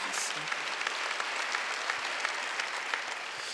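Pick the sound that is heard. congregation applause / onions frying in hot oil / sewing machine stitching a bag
congregation applause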